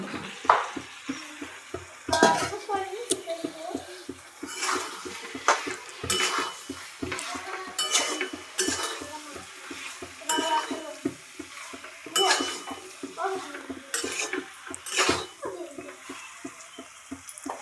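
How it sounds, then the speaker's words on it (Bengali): Fried green jackfruit tipped into a pan and stirred, giving steady rhythmic scraping and clinking of a spoon against the metal over a light sizzle, close up and with no voices. "এঁচড় যেটা ভেজে রেখেছিলাম এঁচোটা দিয়ে দিচ্ছি এই যে এঁচোড়টা দিয়ে দিলাম"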